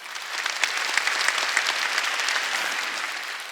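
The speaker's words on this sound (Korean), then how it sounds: "예, 박수 좀 쳐줘요." A church congregation claps during a Sunday worship service, giving a continuous, even burst of applause that fills the hall for a few seconds without speech over it.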